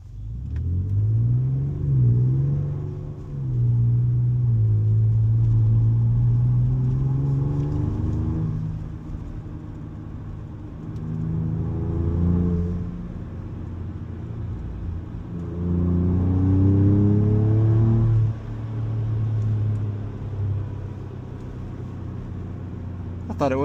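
A Ford Ranger Raptor engine holds high RPM, around 3,500 to 4,000, with a loud, droning rumble that rises and falls in pitch through several sweeps while the truck drives.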